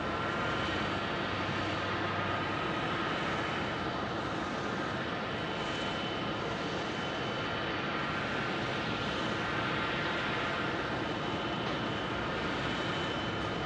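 A United Airlines Boeing 737 MAX 8 from Newark at Phoenix Sky Harbor Airport, its jet engines giving a constant, loud, even roar throughout with no voices.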